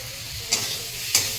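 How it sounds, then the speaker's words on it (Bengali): A vegetable curry sautéed in a pan gives a steady frying sizzle, with two brief louder scrapes of stirring about half a second apart, close by and with no talk. "তরকারি কষাচ্ছে"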